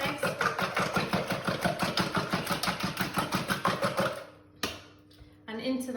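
Five eggs are whisked briskly in a bowl for a quick egg bake, a fast, even rhythmic clatter of rapid strokes close by that stops abruptly near the end, followed by a brief knock.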